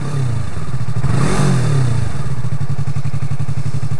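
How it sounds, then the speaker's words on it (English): A 2015 Yamaha R3 motorcycle engine revs up and settles back to a steady, throbbing idle, loud and close with a regular pulsing beat. "There's the engine."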